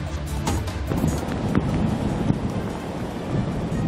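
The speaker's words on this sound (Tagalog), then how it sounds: "Mabagsik ang mga alon, lalo rito sa bahagi ng karagatang sakop ng Barangay San Miguel sa bayan ng San Antonio" Strong storm-surge waves pound the Zambales coast at San Antonio, a dense, continuous roar of surf and wind rumbling loudly without a break.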